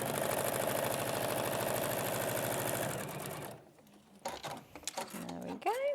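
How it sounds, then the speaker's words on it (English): A sewing machine stitches fabric blocks with a steady, close, rapid mechanical whir for about three seconds, then stops, leaving a few scattered handling clicks and rustles. "And then sewing along."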